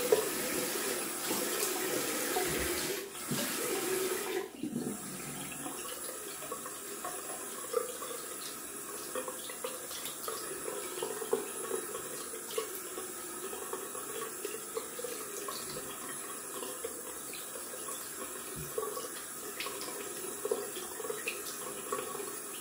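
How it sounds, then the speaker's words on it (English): Cold water runs from a bathroom tap for rinsing after a wet shave, a steady faucet stream splashing into a sink, with a brief louder gush at the start and then a constant, moderately close flow. "Going down for some cold water rinsing."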